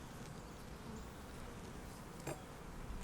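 Honeybees buzz around frames lifted from an open hive, a faint, steady, continuous drone with no pauses.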